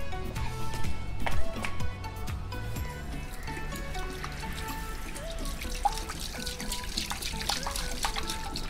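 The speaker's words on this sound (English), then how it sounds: "So now let me add water." Water pours and splashes into a clay pot, with gurgling, dripping sounds that shift in pitch as it fills, close by.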